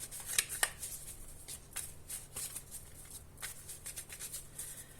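Tarot cards shuffled and laid out by hand, with soft rapid riffling and flicking, a couple of sharper snaps near the start, close and quiet with no talking.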